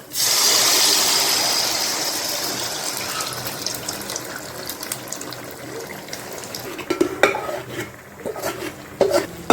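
A utensil scrapes and clinks against a pan while flour mixture is stirred for Tamil uppu urundai, a string of irregular metallic taps and scrapes close by, over a faint sizzling hiss that fades after the start.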